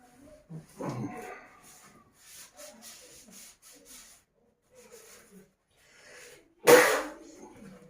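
A single sharp sneeze bursts out near the end, loud and close, after quiet rustling and soft movement sounds.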